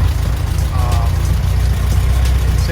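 Air-cooled VW engine with vacuum leaks idles just under 900 RPM, a steady close, loud low-pitched chugging rumble with an even pulse and no talk.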